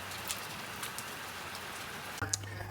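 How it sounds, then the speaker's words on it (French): Steady rain falls continuously in the early morning, an even wash of drops pattering on surfaces with a few sharper splashes and a brief low hum near the end, no voices. "Et il est 10 heures, il pleut toujours."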